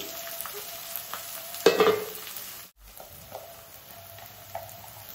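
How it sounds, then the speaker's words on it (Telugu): Onions and green chillies frying in hot oil with spices, a steady low sizzle with a brief louder crackle burst as the pan is stirred, then settling back to a gentle continuous hiss. "మసాలాలు ఫ్రై అయ్యాక ఆనియన్స్, పచ్చిమిరకాయలు వేసుకోండి. ఇవి బాగా ఫ్రై అవ్వనివ్వండి."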